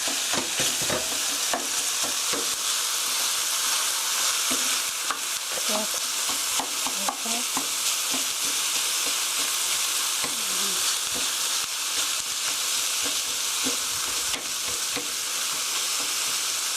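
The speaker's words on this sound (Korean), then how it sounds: "고기가 하얗게 될 때까지 볶아주세요." Ground meat sizzles steadily in a hot pan with onion, garlic and paprika while a utensil scrapes and stirs in repeated strokes, loud and close, with no voices.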